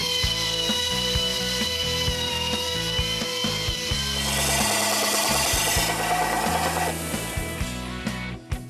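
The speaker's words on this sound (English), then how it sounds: "we're going to go ahead and put a chamfer on the cylinders to help the rings go in." A boring bar chamfers the cylinder bores of a Mopar 440 engine block, giving a steady grinding, rasping machine-shop noise with rhythmic low thumps and a busier cutting texture midway through, with no talking.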